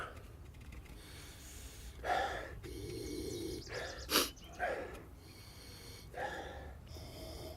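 Several short, sharp nasal sniffs and snorts in quick bursts, close up, separated by pauses over a faint background hiss.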